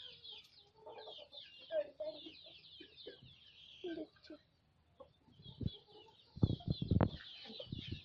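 Sick forty-day-old broiler chickens cluck intermittently nearby in soft, scattered bursts, with a few louder thumps and rustles toward the end and someone speaking at times.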